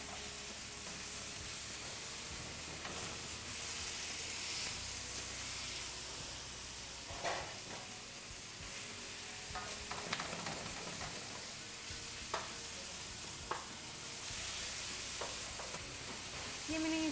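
Beef and vegetables fry in a pan with a little water, giving a steady close sizzle and hiss broken by scraping stirs and a few sharp clinks, with no talking.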